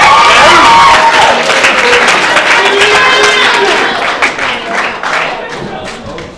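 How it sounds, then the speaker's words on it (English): Wedding guests at a reception applaud loudly, close and full clapping from a crowd that holds steady and then thins out toward the end. "Yeah, round of applause."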